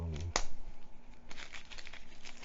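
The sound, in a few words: unwrapping plastic-wrapped Forbidden Island board game pieces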